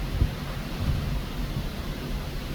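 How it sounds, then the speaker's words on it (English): Steady broadband hiss of heavy rain from a Pacific rain squall, heard from a Carnival Luminosa cruise ship balcony, with low rumbling and a few dull thumps underneath, continuous and fairly loud. "You can hear the rain now."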